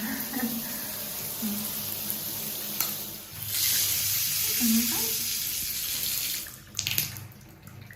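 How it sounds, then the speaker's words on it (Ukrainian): A tropical rain shower head in a newly plumbed bathroom runs with a steady broadband hiss of falling water. The sound is moderately quiet and swells slightly partway through, with a brief voice near the end. "Нажимаєш кнопочку, переключаєш і починає працювати наш тропічний душ."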